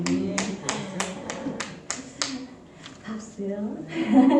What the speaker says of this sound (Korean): 박수요.